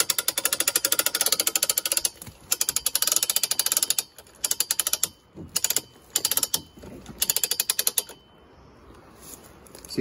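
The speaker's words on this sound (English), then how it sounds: "Okay, and then I wind it in." A hand winch on a log arch ratchets as it winds in, bursts of rapid, loud clicking in quick runs separated by short pauses, close up with no talking.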